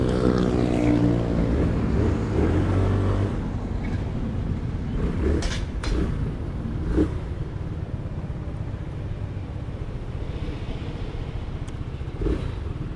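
An FKM Fyro 175 scooter accelerates hard from close by, its engine droning loudly and steadily with wind rush, dropping slightly in level after a few seconds and continuing as a sustained roar.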